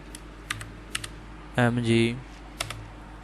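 Typing a channel name on a computer keyboard: a few isolated, crisp key clicks spaced out, close and fairly quiet, interrupted midway by a brief spoken voice.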